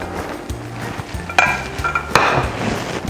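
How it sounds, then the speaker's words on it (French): A whisk or spoon stirs hot crème anglaise into chocolate in a bowl, scraping and clinking against the sides in several separate bursts over a low, steady background. "Et je vais mélanger le tout jusqu'à obtenir mon crémeux."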